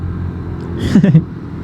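A car climbs a winding mountain road toward Tawangmangu, its steady low engine rumble and road noise continuous beneath a brief voice and a short mid-clip swell.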